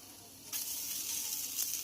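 Mung dal and jowar flour dhirde roast on a pan with a steady, close sizzle that swells after a brief quieter opening and holds alone, with a faint crackle near the end.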